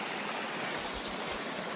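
A creek in the central Pennsylvania woods flows steadily nearby, a dense, continuous rushing babble of water with no voices.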